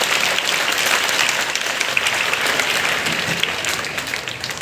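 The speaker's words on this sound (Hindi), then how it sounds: "इनके सम्मान में एक बार ताली बजाकर स्वागत करते हैं" An audience at a free bicycle distribution ceremony applauds steadily, a dense, even wash of many hands clapping at once that stays at a constant level throughout, fairly close, with no voices audible.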